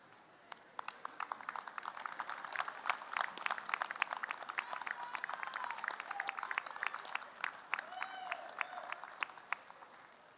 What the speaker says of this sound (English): give them a round of applause for all they have done